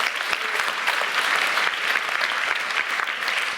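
An audience at a diversity and inclusion talk claps in a brief, dense round of applause close by.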